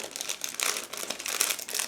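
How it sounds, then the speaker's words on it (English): A plastic bag of model kit parts is opened and handled, giving continuous close crinkling and rustling with sharp crackly bursts throughout. "give me a second to open another plastic bag"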